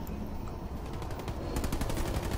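Sustained automatic gunfire from the Halo Wars 2 campaign, a dense steady rattle of shots that grows a little louder and sharper in the second half, with no talking.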